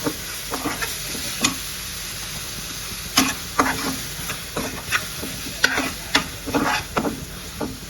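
A tomato rice mixture fries in a pan with a steady soft sizzle, broken by repeated scraping stirs of a spoon against the pan at an irregular pace, close up.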